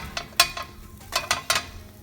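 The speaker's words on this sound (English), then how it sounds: "I'm gonna put my potatoes along with this, my onions" Potatoes and onions tossed into a dry pan of Goan choris sausage with no oil, giving a few soft scattered thuds and scrapes against the pan, close and fairly quiet.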